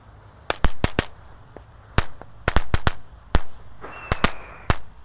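A rapid, irregular string of sharp bangs from a large Tank Tor firecracker, about fifteen loud cracks in uneven bursts, each cutting off quickly over faint background hiss.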